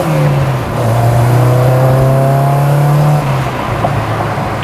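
A K-swapped Honda EG hatchback accelerates hard through the gears, its engine note climbing in loud, close revving pulls broken by short upshift dips, with no talking over it.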